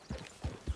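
Horse hooves clip-clop in a video game as a horse is ridden toward town, three dull, soft thuds at an even walking pace, close and fairly quiet.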